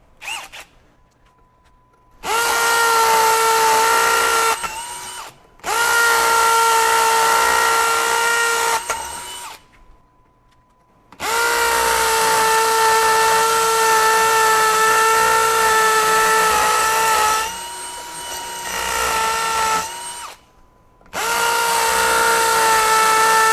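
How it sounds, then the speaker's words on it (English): A Bosch GSB18V-1330C 18V hammer drill runs in hammer mode with a 3/8 bit, several loud sustained bursts of whining, rattling drilling separated by short pauses, close and with no talking. "And finally, we're going to go to hammer drill mode."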